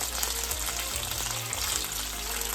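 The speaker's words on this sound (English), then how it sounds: "So fry it all together" Deep-fried mixed pepper and chopped onion sizzle together in a pan, a continuous close crackling hiss of frying with no talk over it.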